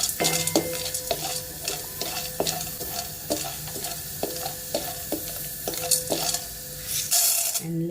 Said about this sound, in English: I am going to put few drops of till oil initially, and fry this